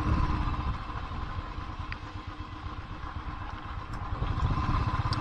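A heavy motorcycle rolls slowly downhill on a loose-soil road in the Kailasagiri hills, its engine a low, uneven rumble with scattered clatter from the ground, moderately loud and steady throughout.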